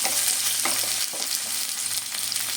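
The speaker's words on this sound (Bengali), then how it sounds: "এদিকে পেঁয়াজটা আরেকটু আমি নেড়ে চেড়ে ভেজে" Onions fry and are stirred in a pan for egg korma, a steady broadband sizzle under several soft scraping strokes of the spoon, close and continuous with no talking.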